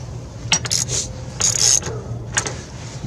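A hand ratchet clicks in short bursts while tightening the brake booster nuts on a 2012 Dodge Grand Caravan, with a low hum beneath and no talking.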